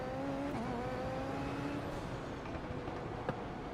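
A race car engine in iRacing drones steadily, its pitch shifting and climbing through gears in a continuous, loud, close-up roar.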